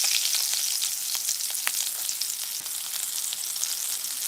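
Shrimp frying in a pot for bootleg shrimp fried rice, a steady close sizzle with occasional pops as they are turned.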